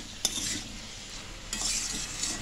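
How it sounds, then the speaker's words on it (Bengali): Boiled potatoes are stirred and fried in a pan for a potato fish fry, giving a soft continuous sizzle with two sharper scraping stirs of a utensil, close and moderately quiet, with no talking. "এরপরে আমি একটু ভাজা ভাজা করে নিচ্ছি।"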